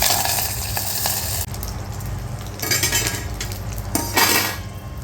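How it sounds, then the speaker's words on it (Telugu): Curry leaves hit hot oil in a tempering for mango coconut chutney, giving a loud close crackling sizzle with metallic clinks of a lid and utensils on the pan, and bursts of spattering. "కల్లేమాకు వేద్దాము. మూత పెడతా ఎగురుతుందని."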